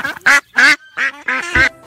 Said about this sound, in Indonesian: rupanya ada si bebek guys beserta telur-telurnya